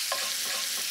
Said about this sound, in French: On voit bien que notre sucre est en train de caraméliser avec le beurre.